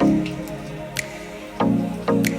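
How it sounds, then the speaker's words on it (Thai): Water drips inside a cave, a few distinct drops landing at irregular intervals over a low steady hum, fairly close and clear. "เป็นน้ำย้อยเต็มถ้ำเลยนะครับ"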